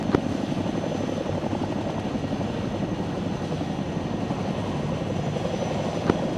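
Helicopter in the ARMA military game lifting off from runway 26, a steady loud rotor and turbine drone held evenly throughout, with no voices.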